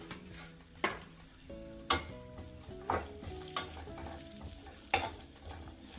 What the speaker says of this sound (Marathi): अंजीर पाऊणवाटी घेतलेत याचे पण तुकडे करून घेतलेत हे पण तळून घेते